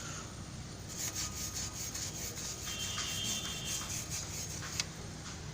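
A wire brush scrubs brake dust and rust off a front brake caliper on a Tata Safari Dicor, giving a faint, steady rasping scrape with repeated strokes and no talking.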